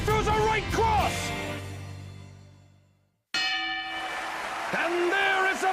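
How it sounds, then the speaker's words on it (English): A boxing bell ending round one in the Hajime no Ippo video game, ringing with a long decaying metallic tone, then struck again after a short gap, mixed with game voices. "there is a bell ending round one"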